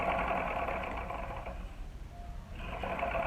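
A sewing machine runs a seam around a small shoe, its steady mechanical whirr fairly close and loud, easing briefly in the middle before picking back up.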